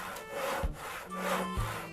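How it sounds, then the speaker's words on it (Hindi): A hand saw cuts through wood in a forest, with two steady back-and-forth rasping strokes, rough and fairly close, and no talk. "अरे ये लकड़ी काटने की आवाज कहाँ से आ रही है?"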